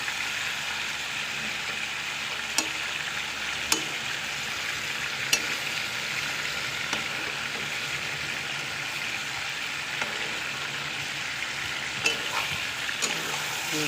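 Chicken pieces searing in a pan for Filipino chicken afritada, a steady loud sizzle and frying crackle throughout with a few sharp clicks of utensils against the pan.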